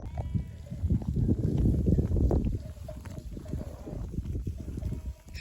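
Flock of sheep on a flower-covered hillside after a night of rain, with low bleating and hoof shuffling from nearby animals, busier at first and thinning toward the end.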